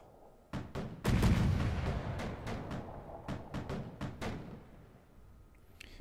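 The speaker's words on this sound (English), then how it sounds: "That's the 40mm still happily going off." A 40mm gun in the naval combat game From The Depths fires a rapid series of sharp booming shots, some overlapping into a rumbling burst, then spaced reports trailing off.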